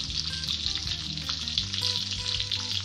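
Crucian carp stuffed with pork fries in oil in a pan, a steady close sizzle and crackle that runs without a break the whole time. No one speaks.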